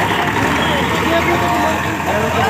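Tractors tear up an 800-bigha mustard field, their engines a loud, steady diesel rumble with no break, droning close by as machinery works the crop.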